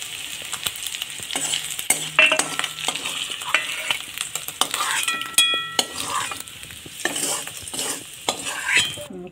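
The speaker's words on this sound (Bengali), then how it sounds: "তেলের উপর দিয়ে দিলাম পেঁয়াজ।" Onion is dropped into hot oil in a pan just used for frying dried Bombay duck. A bright sizzle runs under repeated close scrapes and clinks of a spatula stirring in uneven bursts.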